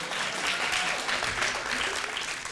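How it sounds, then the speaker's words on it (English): An audience at a 50th anniversary afternoon program applauds, a full, even burst of many hands clapping that carries steadily throughout without a break. "Give Adam a round of applause"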